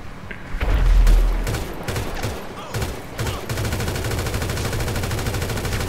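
Rapid bursts of automatic machine gun fire in the video game GTA V, loud and close, with a heavy boom early on and then a sustained, dense rattle of shots to the end.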